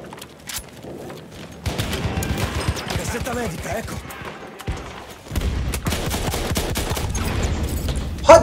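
Automatic gunfire in the Battlefield 1 game, with dense rapid bursts of shots that come and go for the whole clip, heavy and close, with a short quieter gap in the middle and a sharp blast at the end.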